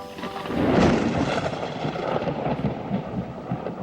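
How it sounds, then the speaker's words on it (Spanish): A deafening thunderclap cracks and rolls into a deep, broad rumble, followed by a steady hiss like rain pouring down. It sounds close and loud, with no voices, as a storm effect in a narrated story. "La naturaleza respondió con un trueno ensordecedor, dando paso a chorros de agua cayendo desde el cielo"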